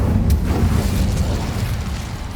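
The Incendio fire spell in Hogwarts Legacy erupts as a loud, close whooshing blast with a deep rumbling body and a sharp crackle at its start, sustained and slowly fading, with no voices over it.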